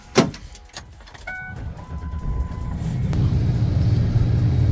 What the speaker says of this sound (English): So I'm going to start Tane's truck for him.